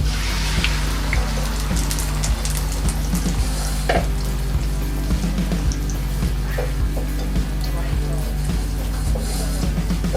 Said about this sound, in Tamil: இப்போ நம்ம செஞ்சு வச்ச எக் மிக்சரை சேர்த்துப்போம்.